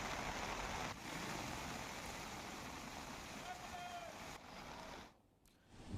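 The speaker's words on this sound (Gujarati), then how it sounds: "કપડવંજમાં ધોધમાર વરસાદ છે" Heavy rain pouring in Kapadvanj, Gujarat, during a downpour with gusty winds, heard as a steady broadband hiss of falling water that softens and drops away near the end.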